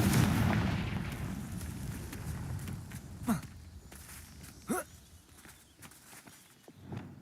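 Fire-spell blasts in the Hogwarts Legacy video game: a rumbling fiery burst opens, then two sharp explosive cracks with short whooshes follow a second or so apart, fading into quieter game ambience and footsteps.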